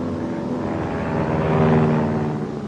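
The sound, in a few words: aircraft approaching in simulated attack, WW2 training film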